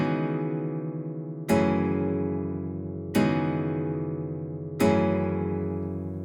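Nylon-string guitar chords from the Presence XT software preset Nylon Guitar Full, played in Studio One 5: three open, sustained chords struck about every 1.6 seconds, each ringing and slowly decaying, heard clearly without any voice.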